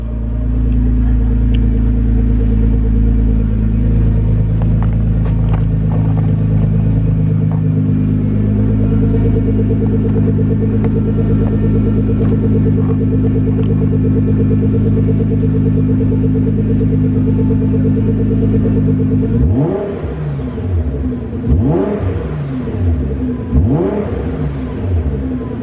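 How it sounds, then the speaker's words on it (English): Nissan GTR R35 with a custom exhaust idling with a loud, steady, deep rumble in an enclosed area, then several sharp revs near the end that rise and fall quickly, booming and amplified by the surroundings. "That is what the exhaust sounds like."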